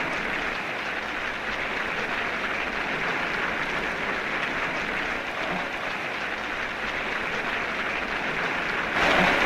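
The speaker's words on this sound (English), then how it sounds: "A thunderous applause to the man of the moment, the 21-year-old Gavaskar, for his sterling debut." A crowd at a Bombay Cricket Association reception for the young cricketer Sunil Gavaskar and the Indian team applauds in a dense, continuous roar of clapping that holds steady for several seconds, with a slight swell near the end.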